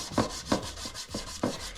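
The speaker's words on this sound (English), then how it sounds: "using the exposed surface of the potato on the inside, start to scrub." Cut potato scrubbed against rusty cast iron, producing close rhythmic rubbing strokes, about five back-and-forth scrapes in under two seconds, soft and gritty with no talk.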